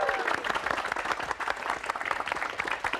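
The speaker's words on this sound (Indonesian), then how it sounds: "Oke pemirsa, tepuk tangan buat Itang Yunas" Studio audience applauding a performer named Itang Yunas on an Indonesian TV variety show, a dense, steady wash of many hands clapping with crowd noise throughout.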